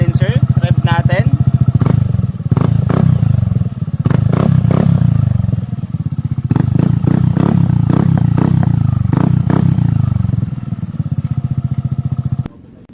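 A Suzuki Burgman Street 125 scooter with a full-system exhaust and the silencer removed revs loudly and close up in a series of throttle blips over a raw, rumbling idle, ending abruptly.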